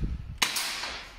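A single sharp gunshot fired inside an abandoned carpet warehouse. It cracks loud and close, then a short echoing tail fades off.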